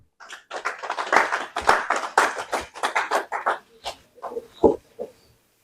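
A church congregation applauds during a prayer and fasting service, a burst of close, dense clapping that thins into scattered claps and fades out, with a few voices mixed in.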